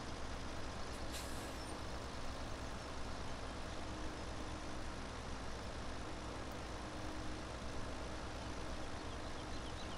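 A Deutz-Fahr farm machine's engine running steadily, a faint, continuous low rumble and hum with no clear change in pitch, and a brief hiss near the start.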